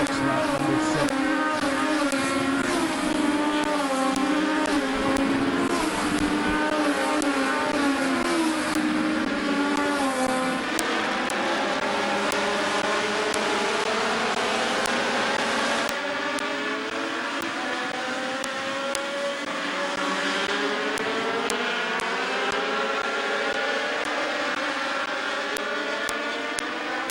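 Race cars lapping Midvale Speedway, a continuous loud roar of several engines with overlapping, shifting pitches as cars pass and rev, heard from trackside with no talking.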